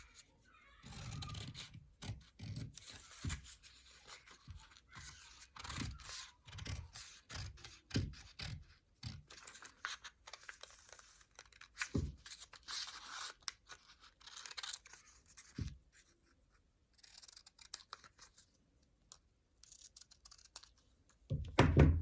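Scissors snip through dress fabric while cutting out an oversize dress pattern, making a run of close, crisp cuts at an uneven pace with gaps of quiet between them.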